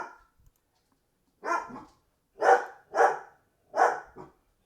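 Dogs bark close by indoors in four separate sharp barks spaced about half a second to a second apart, each standing alone against near silence.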